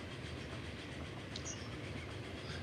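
Train rolling along rails in the video game Transport Fever, a steady continuous rumble with faint clattering, alone without voices.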